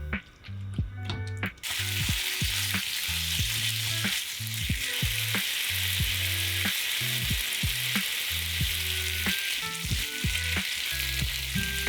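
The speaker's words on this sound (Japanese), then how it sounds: "豚肉を炒めます。" Pork stir-frying in a pan: a loud, steady sizzle with repeated low clunks of stirring throughout, after a brief quieter start.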